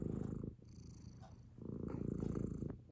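Close, low rumbling cat purr in two long rhythmic stretches with a brief pause between, no talking.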